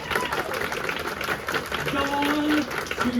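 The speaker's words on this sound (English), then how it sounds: "Round of applause for poor family," Applause and cheering from a live audience at a comedy game show at a gaming expo, dense clapping with crowd voices and a few whoops mixed in throughout.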